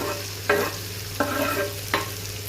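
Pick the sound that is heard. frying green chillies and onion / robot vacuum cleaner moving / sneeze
frying green chillies and onion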